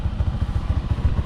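A motorcycle engine runs near idle, giving a close, low, evenly pulsing thump about eight beats per second with a faint clatter on top.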